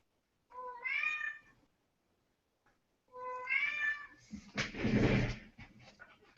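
A cat meows indoors, two clear, drawn-out cries close by, separated by a short silence, followed by a brief scuffling, rustling noise.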